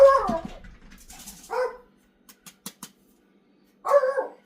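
A small dog barks indoors in a kitchen, a few sharp yips and barks separated by pauses, close and fairly loud, with faint clicks between them.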